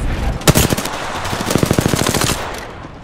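Rapid automatic gunfire in the battle-royale game Apex Legends, a loud sharp opening shot followed by bursts of fast rhythmic rounds that taper off near the end, with no voices.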